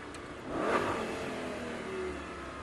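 A Lamborghini Diablo engine revs up and holds a steady roar close by, swelling around the first second then settling into a sustained mid-pitched drone.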